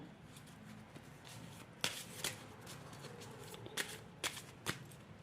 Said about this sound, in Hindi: मैं आपके लिए अभी 1-2 कार्ड्स और निकालूंगी